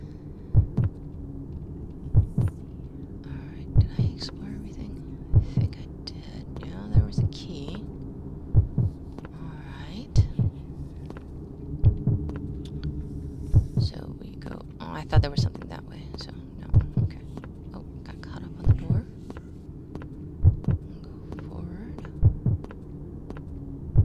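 A steady, thudding heartbeat pulses through the dark underwater horror game The Deep, evenly spaced double beats under a low hum, with soft whispery sounds and faint voices around it.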